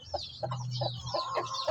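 A Shamo hen that has been brooding for two days gives a few soft, close clucks in short bursts, with faint background noise around them.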